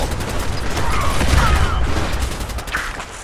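Video game gunfire rattles in a dense, loud volley of rapid shots, rising to a heavy burst in the middle and easing slightly toward the end.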